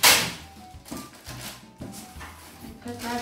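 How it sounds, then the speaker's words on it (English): Sharp ripping and crackling bursts of see-through adhesive tape being pulled and torn, close up, coming in several uneven pulls with brief pauses between. "But I'm going to tear that, so excuse the noise."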